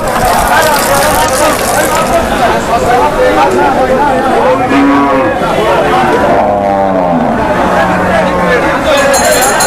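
Cattle lowing at the Aricha cattle market amid a busy crowd, with steady chatter and babble from many people filling the background throughout.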